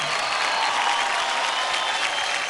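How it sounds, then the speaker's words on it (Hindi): A studio audience at a kids' dance competition applauds a performance, with loud, steady clapping and crowd noise that holds evenly throughout. "जोरदार तालियां हो जाए सदविन के लिए।"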